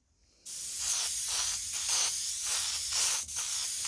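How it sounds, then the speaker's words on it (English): An airbrush sprays paint across a canvas in a steady close hiss that pulses in short bursts, briefly cutting out near the end before resuming. "I'm just going to spray over the whole thing."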